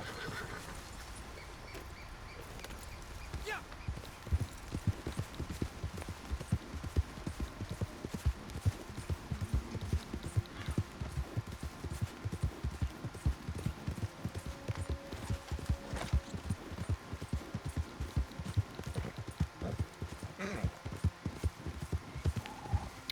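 Horse hooves clip-clop steadily along a road in a video game, a brisk, regular rhythm of hoofbeats running throughout, with an occasional whinny.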